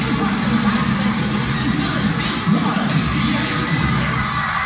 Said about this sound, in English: Sister team cheering them on from the sideline.